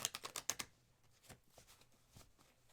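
Tarot and Lenormand cards riffled in a rapid burst of crisp flutters at close range, followed by a few soft scattered taps and rustles in a quiet room.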